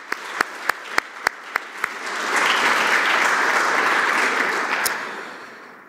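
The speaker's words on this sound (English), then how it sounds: "Let's give all of them a big round of applause." Audience at a university AI Week opening ceremony bursts into applause: a few sharp, isolated claps first, then a broad, sustained wash of many hands clapping for several seconds before fading out.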